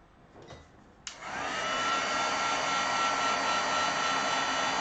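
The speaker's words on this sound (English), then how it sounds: "When I do heat emboss, I tend to start at the back." A heat embossing tool for card-making switches on with a click and blows hot air in a loud, steady whoosh that runs without a break to the end.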